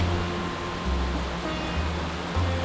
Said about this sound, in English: the sounds of the rain on the reed roof and water around us were quite soothing